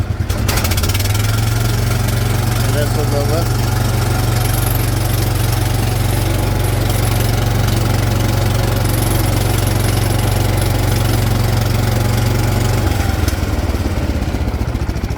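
The engine of a 1978 John Deere 214 lawn tractor with hydraulic lift throttles up into a loud, steady, close mid-pitched drone that holds for most of the clip and then drops off near the end, with a brief spoken remark over it.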